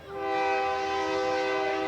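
A train horn blows one long, steady, loud blast close to a baseball field, sustained alone for nearly two seconds.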